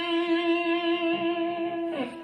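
A single sustained guitar note rings clearly with a gentle wavering vibrato, held for about two seconds before fading as it is released.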